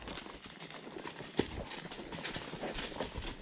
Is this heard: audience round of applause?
no